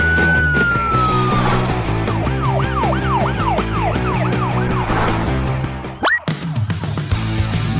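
A police car siren from a children's cartoon wails in repeated rising and falling sweeps over a busy animated vehicle soundtrack, loud and continuous, ending with a sudden swoosh and crash.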